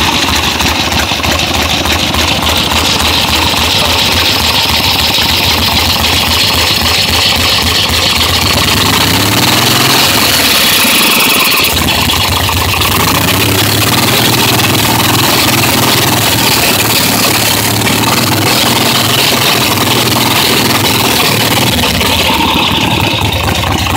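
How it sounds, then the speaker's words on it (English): A 1977 Harley-Davidson Sportster 1000 with a new carburetor and a throttle dead spot runs loud and close, idling with a rough, throbbing rumble, dipping and revving briefly midway before settling back to a steady idle. "This is a Sportster 1077, a new carburetor on it."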